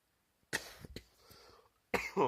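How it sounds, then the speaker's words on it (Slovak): A person coughs close by, a sharp burst followed by a couple of smaller coughs, then a voice starts speaking at the end. "Si trošku kašlem."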